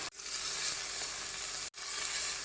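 Ginger garlic paste fries with onions for paneer biryani, a close continuous sizzle that cuts out twice for a moment and then resumes at full strength, with no talking.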